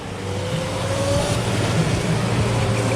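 An electric Barbie-themed go-kart racing around a corner in an endurance race at Maker Faire Orlando 2021, a loud continuous whirring motor hum with a faint rising whine, mixed with crowd and outdoor noise.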